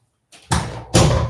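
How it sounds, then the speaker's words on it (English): A door is closed indoors, with a soft first contact followed by two solid slams about half a second apart, loud and close with no talk. "I'm going to close the door again."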